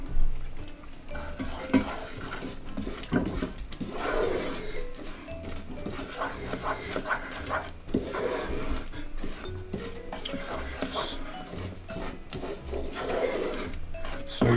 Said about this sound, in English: So you just have to keep constantly stirring.